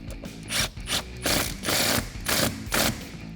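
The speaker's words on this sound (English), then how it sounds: "Then we can tighten up our clamp on the filter with that 11mm socket." A ratchet fitted with an 11mm socket tightens the intake filter clamp on a 5.7L RAM 1500 cold air intake, giving several quick bursts of clicking strokes separated by short pauses, close and clear with no talking.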